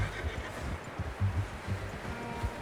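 A horse in Red Dead Redemption 2 snorts and whinnies softly amid the thud of hooves and light rustling, close by and low in level, with no talk over it.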